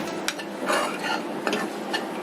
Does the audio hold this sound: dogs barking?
no